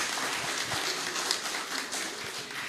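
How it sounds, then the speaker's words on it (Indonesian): Audience applause at a hospital event, a steady wash of many hands clapping at moderate distance, fairly quiet and continuous throughout with no voices over it. "Tepuk tangan untuk kita semua."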